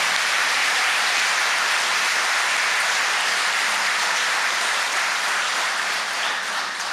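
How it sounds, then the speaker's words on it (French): Applause from the audience in a national assembly hall during an official speech by the newly elected assembly president: loud, continuous clapping from many hands, even and sustained throughout. "Second bon applaudissement pour Adama Bictogo"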